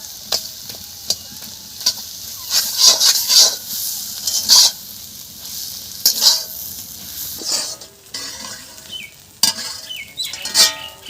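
Bathua greens curry is tipped into a hot iron wok, giving intermittent bursts of sharp sizzling and spattering between quieter gaps, with light scrapes and clinks of a utensil against the metal.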